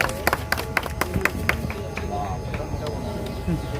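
An outdoor crowd near Parliament at a Samvidhan Bachao Andolan event breaks into scattered claps, sharp and uneven at first, then thinning, heard under someone speaking.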